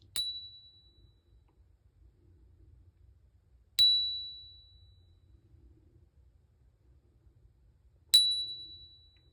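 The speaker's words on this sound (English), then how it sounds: "This is for notifications." Three short, bright notification chimes from a phone, each a sharp ping that rings out and decays, spaced about four seconds apart over a faint low hum, with no talking.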